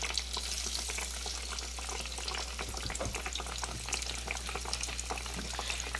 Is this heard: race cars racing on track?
no